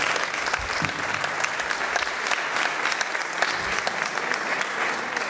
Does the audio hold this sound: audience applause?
yes